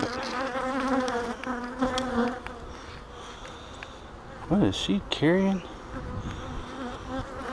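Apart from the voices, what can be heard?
honeybees buzzing at hive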